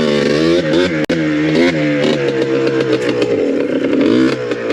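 A Yamaha Blaster ATV engine revs loud and close, a raw buzzing two-stroke drone that rises and falls through a couple of throttle swells, with one brief dropout midway.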